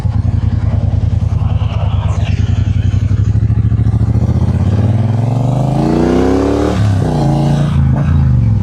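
A Triumph Bobber 1200cc motorcycle engine rumbles steadily through city traffic, a dense low pulsing idle that rises into a loud revving climb, drops with a gear change, then pulls up again close to the microphone.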